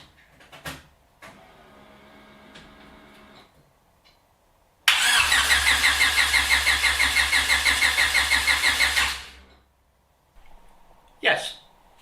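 A car engine cranks over on its starter with compression, a steady pulsing whirr lasting about four seconds, loud and close. Brief mechanical clicks and rattles come before and after.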